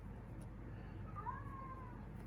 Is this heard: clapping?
no